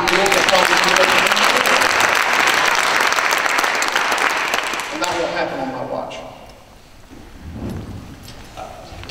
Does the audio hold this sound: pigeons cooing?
no